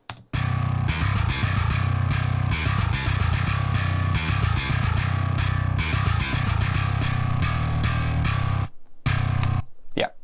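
Heavy djent bass played through a VST bass plugin, a thick distorted low-end riff with chugging palm-muted bursts and short stops, loud and alone, ending with a brief gap and a final hit.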